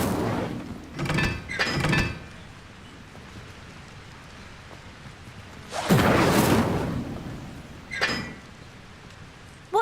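A fire spell cast in the video game Hogwarts Legacy, heard as several short whooshing, crackling bursts around 1–2 seconds, a bigger flare near 6 seconds and a brief one at 8, over a low background hum.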